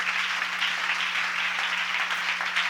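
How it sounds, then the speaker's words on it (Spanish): Church congregation clapping in praise to the Lord, a steady, moderately loud wash of applause with no break, a faint hum running underneath. "Fuerte ese aplauso al Señor de la gloria."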